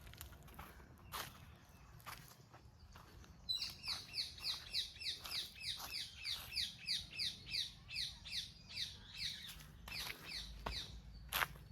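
Birds chirp on a village morning, a rapid, rhythmic series of bright repeated calls starting a few seconds in and continuing steadily, fairly faint, with scattered clicks and soft sounds in the background.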